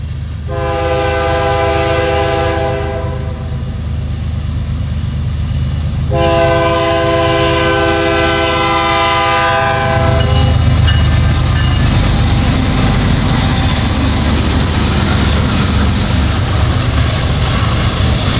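A Canadian National mixed manifest freight with three engines departs eastbound from Battle Creek, sounding two long, loud horn blasts before its heavy rumble and wheel clatter build and continue steadily.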